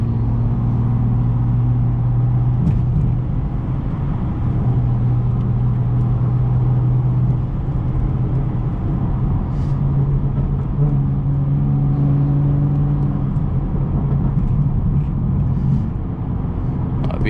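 A modified BMW 440i cruising on a highway, its engine a loud, steady low drone with a shifting tone as speed changes, heavy road rumble throughout and no talking.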